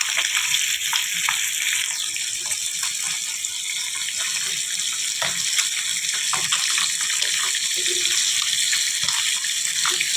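Small gurakalu fish fry in a pan with a continuous, even sizzling hiss, close and fairly loud, with no talking.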